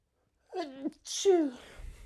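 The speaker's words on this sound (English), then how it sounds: "that was a weak sound and sneeze" A single close sneeze, a short rising voiced intake followed by a sharp burst, alone in an otherwise quiet room.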